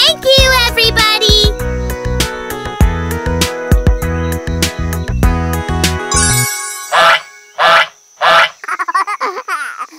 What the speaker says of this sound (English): I'm a duck that says quack, quack, quack.